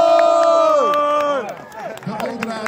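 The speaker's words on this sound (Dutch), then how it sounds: "Dus graag even jullie applaus" A crowd cheers and calls out at an outdoor fireworks demonstration in Lingewaard, with loud sustained voices rising and falling before fading into scattered hubbub.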